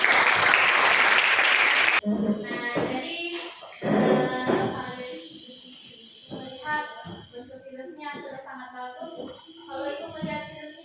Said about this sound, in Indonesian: Oke, baikkan aplaus.